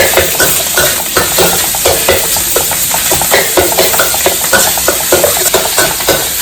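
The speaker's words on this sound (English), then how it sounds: "put in the pork, put in the mash, lower the heat slightly, because my heat is very hot. So I mash it all up, give it a quick stir." Mashed pork frying in a very hot pan, a loud continuous sizzle close up with rhythmic scraping strokes of a spatula stirring and breaking up the meat throughout.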